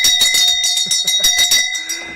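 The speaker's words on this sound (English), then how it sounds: "the bell has been rung" A bell rung repeatedly in quick succession, bright ringing strikes with sustained metallic tones layered over one another, loud and close, fading out at the end.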